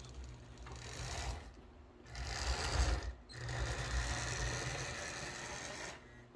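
A Rivarossi Mikado model steam locomotive runs slowly at low power, about 2 volts, producing a faint continuous mechanical whir and gear rattle that swells and fades over several seconds.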